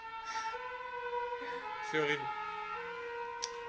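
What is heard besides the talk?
ambulance siren passing near a hospital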